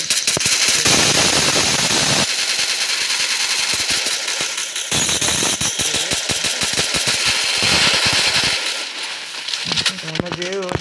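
Dense, rapid gunfire from the Free Fire Max video game crackles loudly in long bursts with brief pauses, ending with a few scattered shots and a short electronic tone.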